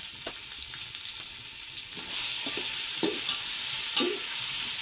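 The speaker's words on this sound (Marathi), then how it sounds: "चणा डाळ फ्राय करून घेऊया" Chana dal frying in oil for a crispy Diwali farsan mix, a continuous moderate sizzle punctuated by several distinct spoon scrapes and stirs, with no talking.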